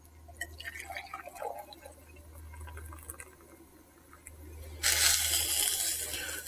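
Hot water is poured into a measuring cup up to the twelve-ounce line, starting with faint trickles and small clinks, then becoming a sudden strong, hissing splash of steady pouring close by.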